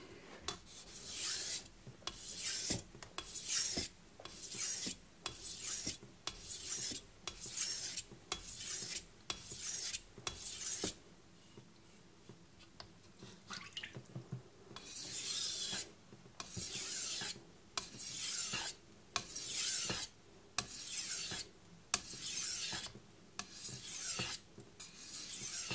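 A knife blade is drawn repeatedly across a Jende nanocloth strop to remove the burr, giving steady rhythmic rasping strokes in quick bursts with brief pauses, close and fairly quiet.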